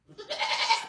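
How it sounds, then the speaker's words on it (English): Several goats bleating on a farm during kidding season, a short cluster of loud, overlapping nasal bleats that swell quickly and stay close. "All the goats are getting up on top of Bella."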